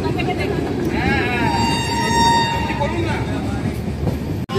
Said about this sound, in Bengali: চলো ট্রেন ছেড়ে দেবে,